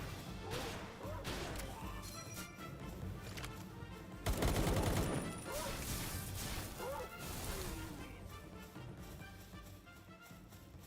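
Gunfire from a weapon in the video game Palworld comes as rapid bursts of shots with crashing impacts, peaking in a dense, loud volley midway, over game ambience.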